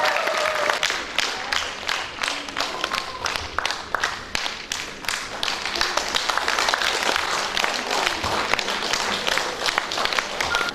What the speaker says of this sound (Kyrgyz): сиздердин жалпы ыраазычылык кол чабууларыңыздар